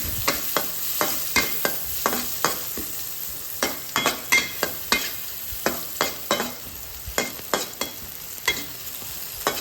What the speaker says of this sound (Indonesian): Tumis lagi.